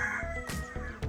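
Chickens at Hønsebyen, a poultry area at the end of Ejbyvej where many bird species are kept in cages, give short clucking calls in a quick burst of a few bursts over steady background chatter of fowl.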